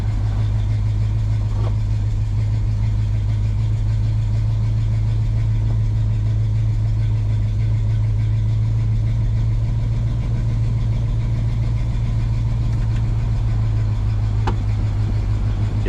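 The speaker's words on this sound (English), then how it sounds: "you can hear the engine when it pulls the vacuum to swap the valves over." A car engine idles steadily while pulling vacuum to swap the ventilation valves, a loud low rumble with an even hum that holds unchanged throughout, with faint clicks near the end.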